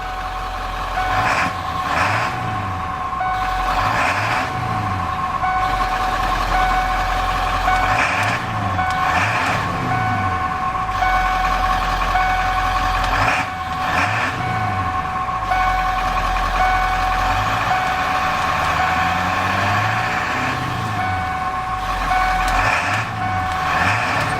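A 1994 Ford F-150 pickup engine idles with a low, steady exhaust rumble while a loud reversing beeper chirps in regular bursts over it.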